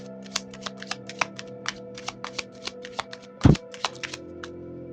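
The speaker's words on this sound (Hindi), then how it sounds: "let me shuffle and pull the more cards for the clarification of the above" Tarot cards being shuffled, a run of quick crisp taps and riffles at an uneven rhythm, with one louder knock partway through, close and fairly quiet.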